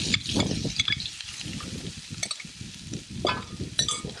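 Garlic and onion frying in a pan, a moderate sizzle with irregular stirring scrapes and occasional light clinks of utensil on metal.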